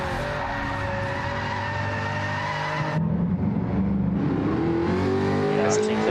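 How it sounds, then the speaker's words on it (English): Race cars idling and spinning their tires in burnouts while waiting for a race start on hard tires in a racing video game, engine drone and tire squeal running continuously, with people talking over it. "I think they're just waiting for the race to start as they're all doing some burnouts"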